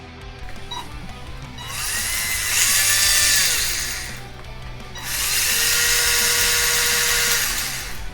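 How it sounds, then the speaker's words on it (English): Small electric motor spinning the gearbox of a Tamiya Comical Grasshopper RC buggy kit: two bursts of high-pitched whirring, each rising to a steady whine then winding down, with a short pause between them and no talking. "we'll plug the motor in and make sure the gearbox works"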